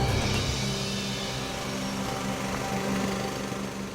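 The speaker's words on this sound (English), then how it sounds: "Birthday boy got the compressor running." An air compressor on a big-rig rescue runs steadily up close, a continuous engine-like drone with a constant hum that barely changes across the clip, with no talk over it.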